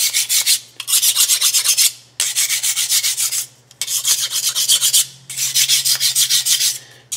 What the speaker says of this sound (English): I'm going to smear that WD-40 around because that's going to be my lubrication.